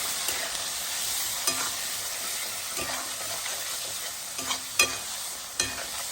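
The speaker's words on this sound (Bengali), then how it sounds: "দিয়ে ভালো করে নাড়বো যতক্ষণ না ভাজা ভাজা হয়।" Ground spices, including a spoonful of chili powder, frying in oil for a pomfret curry, with a steady close sizzle and a few sharp scraping stirs of the spoon against the pan.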